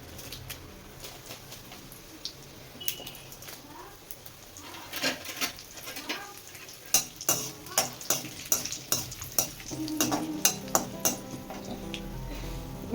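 Mustard seeds and dried red chillies crackle in hot oil for a tempering, a steady sizzle broken by sharp pops and spoon clinks against the pan that grow denser toward the end.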